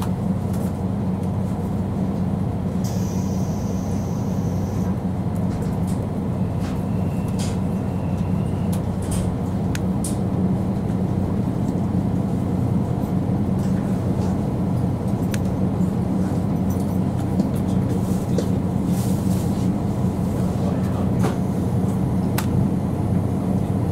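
Steady low rumble of a JNR-type KiHa 185 diesel train departing and running along the tracks from Kochi toward Uwajima, continuous and fairly loud, with faint higher clanks and squeals now and then.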